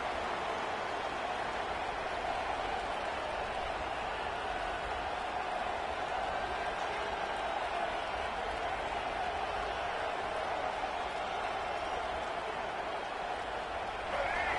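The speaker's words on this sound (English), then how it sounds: "This crowd ready to make its presence known." Stadium crowd at a football game, a broad steady roar of cheering and noise filling the whole stretch without letup, with commentary voices over it.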